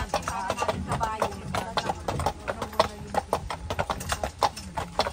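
Horse hooves clip-clop in a quick, regular rhythm on the road near Neuschwanstein Castle in Füssen, Germany, close and distinct, while people talk nearby.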